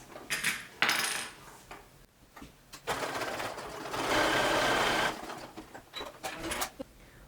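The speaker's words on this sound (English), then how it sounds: "put them right sides together, and we're going to stitch those" A sewing machine stitching the edges of a fabric ear warmer headband, with short whirring runs, clicks and handling noise, then a steady, louder stretch of stitching in the middle before stopping and restarting in brief spurts.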